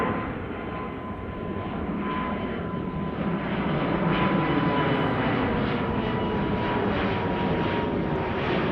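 A jet airliner departing Amsterdam Schiphol roars loudly and steadily, the engine noise swelling a little midway and holding strong to the end.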